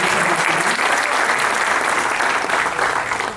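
An audience at a poetry mushaira and kavi sammelan applauds in a dense, continuous wash of clapping that stays loud and steady throughout.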